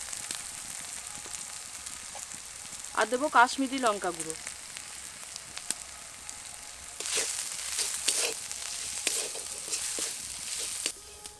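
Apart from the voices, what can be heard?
ground spices frying in oil and being stirred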